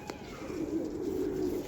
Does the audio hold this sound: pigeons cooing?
yes